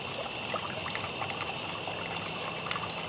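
Wort drains from a lifted bag of malt grain during small-batch home beer brewing, a steady, quiet trickle and dribble of liquid that runs continuously with no voices.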